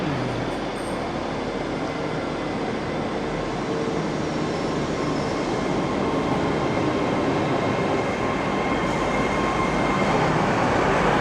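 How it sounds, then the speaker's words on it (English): A westbound TransPennine Express train arrives at a station platform, a loud, continuous rolling rumble of wheels and engine close by that holds steady throughout with no talk. "Here's a westbound TPE service for Liverpool, I would imagine."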